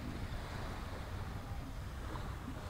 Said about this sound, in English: This is the beach area